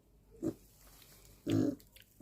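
Vietnamese pot-bellied piglets grunt twice, close by: first a short low grunt, then about a second later a longer, louder one over a quiet background.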